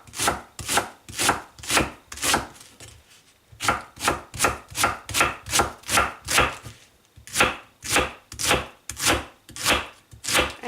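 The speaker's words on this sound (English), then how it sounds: "This is organic cabbage. You just slice it finely." A knife slices organic cabbage finely on a cutting board in quick, steady rhythmic strokes, close and crisp, with a short pause partway through and no voices.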